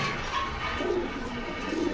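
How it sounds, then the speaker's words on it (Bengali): Sirazi pigeons coo softly in low rounded notes at a pigeon market, partly buried under a steady wash of background noise. "এই মুড়ে একটা কবুতর আছে সিরাজি কবুতর"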